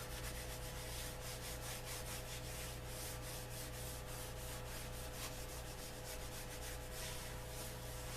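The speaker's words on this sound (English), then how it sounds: "Take a paper towel, put a little neat's foot on it." A paper towel wipes neatsfoot oil over a leather holster, giving a soft, steady, close rubbing and brushing that continues without a break, with no voices.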